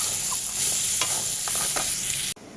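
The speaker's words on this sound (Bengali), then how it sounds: "এখানে ছোলা ভাজা, টিফিন খাওয়াবে, ছোলা ভাজা হচ্ছে।" Chickpeas sizzle steadily as they fry in a pan in a home kitchen, with a few soft stirring scrapes over the hiss, which stops abruptly near the end.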